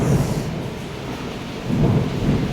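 Low thunder rumbles over heavy falling rain, fading briefly before a second deep roll rises near the end.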